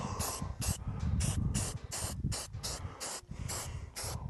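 Fast-drying primer sprays from an aerosol can onto the bolts of a wagon in about ten short, loud hissing bursts at a quick, even rhythm, close by and with no talk.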